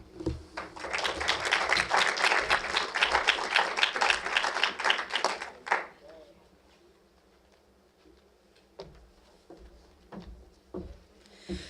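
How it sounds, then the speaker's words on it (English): An audience at a luncheon applauds for several seconds, dense rapid clapping that builds, holds, then stops abruptly, followed by quieter room noise with scattered faint knocks. "let's give one more round of applause to all of our student leaders here today"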